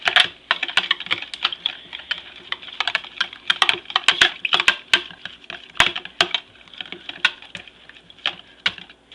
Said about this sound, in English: we're going to mix up the egg and the buttermilk